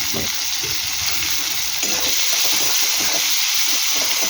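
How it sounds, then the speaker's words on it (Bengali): Onions frying in a hot pan for mug dal with a fish head, a loud, dense, continuous sizzle close up, steady throughout with faint stirring beneath and no speech. "পেঁয়াজটা ভেজে ফিরছি বন্ধুরা"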